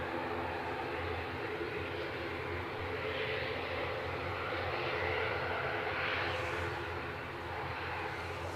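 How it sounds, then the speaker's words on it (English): An ATR turboprop airliner at windy Edinburgh Airport gives off a steady, fairly faint engine drone, mid-distance. A soft whine swells gently around the middle and a faint rising tone appears near the end, with no voices. "There we go, there's your ATR."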